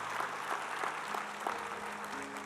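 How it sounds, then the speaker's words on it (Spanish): Applause from a church congregation during a sermon, a steady broad wash of clapping from many hands with a faint sustained tone underneath, moderately loud and continuous without speech. "Den un aplauso a Dios por esta historia."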